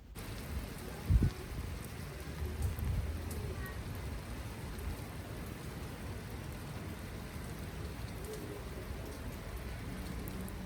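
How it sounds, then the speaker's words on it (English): Steady rainfall during the rainy season in Tanzania, a dense even hiss of drops on surfaces lasting throughout, with a brief low thump near the start and faint distant rumbles beneath. "It's finally raining. It's really raining this time."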